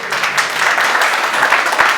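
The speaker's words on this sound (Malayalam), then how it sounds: "എല്ലാവരും ഒന്ന് കൈയടിച്ചേ." An audience applauds at the Aluva Bankers Club New Year celebration, a loud, continuous wash of many hands clapping at once that holds steady for two seconds.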